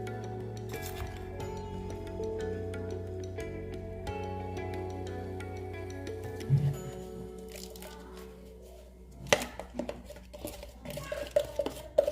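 A spoon stirs a sugary mixture for amla candy in a bowl, with clinks and scraping of utensil against the dish, close and intermittent, growing busier toward the end.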